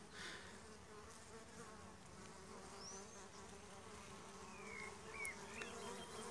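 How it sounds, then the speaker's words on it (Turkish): Young honeybees on an orientation flight at the hive, a weak colony after twelve days of rain, fill the air with a steady, dense buzzing drone that holds throughout, with a few brief higher chirps over it. "Yavru uçuşu."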